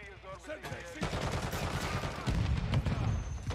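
Video game gunfire, a loud rapid burst of automatic shots starting after a brief pause and continuing to the end, with a voice speaking over the opening moment.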